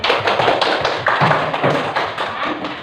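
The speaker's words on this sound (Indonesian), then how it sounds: "mari kita berikan aplaus untuk semua kelompok" A classroom of students claps for their groups, a dense, lively patter of many hands that keeps going steadily for a few seconds with no voices over it.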